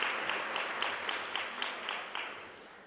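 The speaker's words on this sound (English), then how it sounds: "We can do better in terms of giving a round of applause." A conference audience at a teaching and learning event gives a round of applause, a dense, even clapping with rhythmic sharper claps close by, continuing steadily for a few seconds with no talking.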